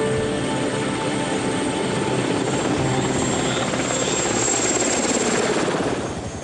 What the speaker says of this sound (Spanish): oímos un helicóptero. Y fue un ruido bienvenido